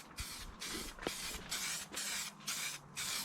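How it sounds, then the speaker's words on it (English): Spray primer hisses onto the engine bay of a BMW E36 in a series of about six short, even bursts with brief pauses between them, close and fairly loud, with no talking. "give her a good fucking spray on there"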